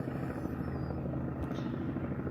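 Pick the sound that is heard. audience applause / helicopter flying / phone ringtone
helicopter flying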